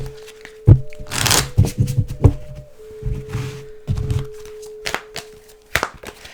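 Tarot of the Hidden Realm and Wild Wisdom Fairy Oracle cards being shuffled in several short, crisp bursts of riffling and tapping, close and fairly quiet, with a faint steady hum beneath.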